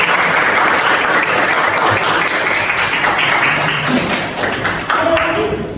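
A classroom of students applauds a classmate during a sociology lesson, steady close clapping filling the room with a few sharper taps and thumps, continuing without pause.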